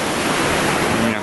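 Sea waves at Cleopatra Beach in Alanya, Turkey, a loud, steady wash of surf noise filling the whole moment, close and continuous.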